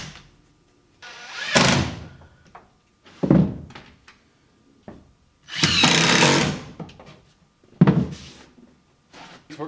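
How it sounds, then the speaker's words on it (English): A power drill drives screws into the plastic floor of a 4x4 hunting blind box. It makes several separate bursts of whirring, each ending in a thunk, with bumps and handling knocks in the quiet gaps between. "We'll take the floor out and screw it down"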